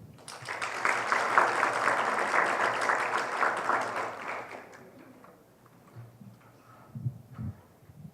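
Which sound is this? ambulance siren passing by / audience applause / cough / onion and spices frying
audience applause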